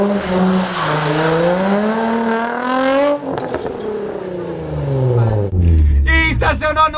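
A car revs and accelerates during a parallel-parking challenge, its engine pitch climbing then dropping through gear changes, with a brief tire chirp late on and people talking near the car.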